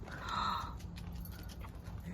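A dog close by gives soft panting and whimpering sounds. They are faint and low against a quiet outdoor background.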